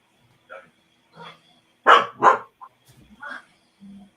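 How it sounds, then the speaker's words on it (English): A dog barks a few times in short, sharp bursts, fairly close, with quieter yips and whimpers scattered around them. "I don't need you barking through it"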